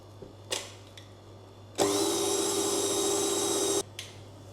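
An electric mixer whisks yeast-free Easter kulich dough in a steady two-second whirring burst, with softer clicks and scraping just before and after it.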